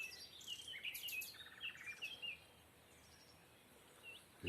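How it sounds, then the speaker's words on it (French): A Eurasian golden oriole sings faintly in the background of a garden with bamboo, behind nearer birds whose thin chirps and twitters come in quick bursts over a soft, steady outdoor hush. "Il y a toujours le loriot derrière"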